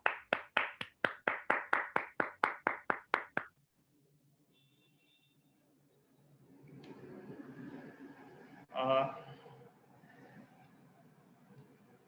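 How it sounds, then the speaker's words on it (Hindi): Seminar audience claps in a short burst of about fourteen sharp, evenly spaced hand claps that stop abruptly, followed by quiet room murmur and a brief louder rustle. "आप सभी का तालियों की गड़गड़ाहट में मैं स्वागत करना चाहूँ"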